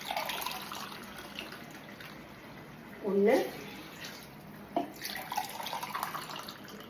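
In a home kitchen, water is poured over rice for chicken biryani, giving a short splashing gush that sits amid steady background noise and scattered clinks, with someone speaking briefly.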